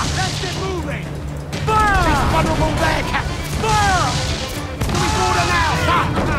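Heavy ship cannons from Assassin's Creed Black Flag boom in several loud blasts amid crashing impacts and naval battle noise, with someone shouting over the fire.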